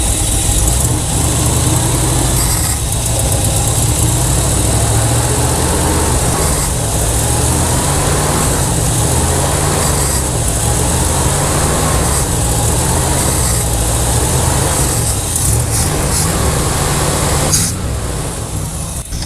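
A heavily smoking, blow-by-prone Dodge Power Wagon service truck engine idles loudly and steadily up close, a deep continuous rumble with a slightly uneven lope and no backfires.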